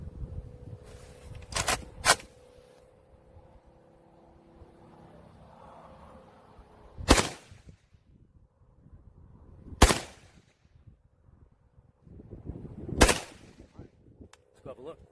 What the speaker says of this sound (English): let's take about 3 shots down range